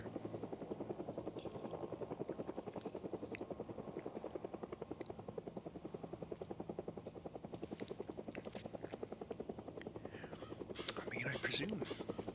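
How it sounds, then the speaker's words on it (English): A helicopter hovers overhead in Project Zomboid, its rotor beating in an even, fast, continuous chop that stays steady throughout, with faint murmured talk underneath. "Bloody helicopter."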